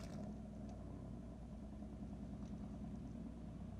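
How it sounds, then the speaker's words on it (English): Truck engine in Farming Simulator 25 idles with a low, constant rumble and steady droning hum, faint and even throughout with no talk. "I don't know why this truck is so loud."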